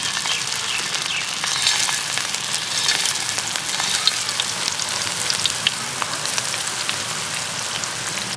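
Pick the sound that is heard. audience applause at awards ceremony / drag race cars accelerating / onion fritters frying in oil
onion fritters frying in oil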